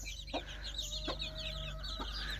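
Grey Ataks chickens cluck in a farmyard, giving three short, distinct clucks spaced evenly over a steady background hum with faint birdsong above.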